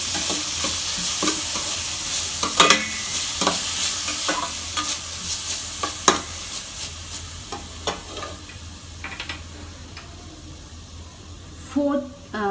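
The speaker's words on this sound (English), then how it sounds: "Into this, I'm going to add in about 3 to 4 medium-sized onions chopped finely." Three or four finely chopped medium onions frying for samosa filling, a constant sizzle broken by repeated scraping stirs and spoon knocks, close, with a voice talking at times.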